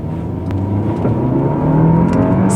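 Audi Q5 mid-size SUV engine revving up after a downshift to first, a steady rising drone heard close from inside the cabin.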